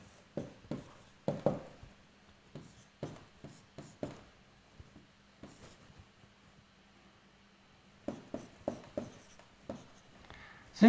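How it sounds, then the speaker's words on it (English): Writing equations on a board during a physics lecture: bursts of short scratchy strokes in irregular groups, separated by quiet pauses, close and moderately loud over a faint steady hum. "So let me write it this way."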